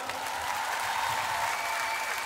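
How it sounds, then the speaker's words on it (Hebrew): A large crowd applauds at an outdoor concert in Caesarea, continuous dense clapping and cheering held at a steady level throughout. "חברים, תעשו כפיים"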